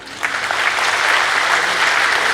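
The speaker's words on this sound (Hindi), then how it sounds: "तो आप सब अपने भाग्य के लिए आज जोरदार तालियां" Loud applause breaks out from a gathered audience at a Brahma Kumaris spiritual festival, a dense, even wash of many hands clapping close by for a couple of seconds.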